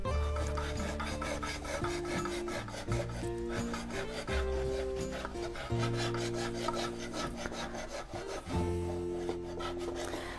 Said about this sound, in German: Also ich schneide mir 2 Böden, jeweils 2 cm raus.